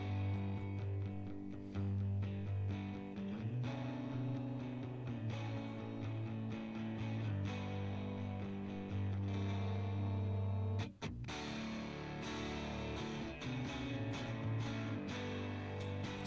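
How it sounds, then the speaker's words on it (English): Sustained guitar chords played through a distortion effect plugin ring out steadily and thickly with a buzzing, saturated tone, continuing for the whole stretch without voices, with one brief dropout near the end. "we're bringing in a little bit of distortion right here"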